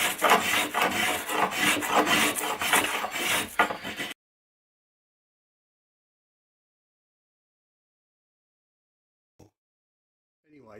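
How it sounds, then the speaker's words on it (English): A cheap spokeshave shaves a hickory warbow stave in quick, repeated rasping strokes for about four seconds, then the sound stops into near silence. "It's only a cheap spoke shave"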